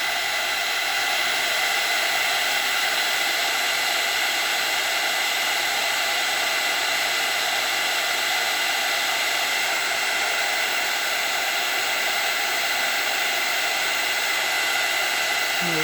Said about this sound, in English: I think this is just too big for the heat tool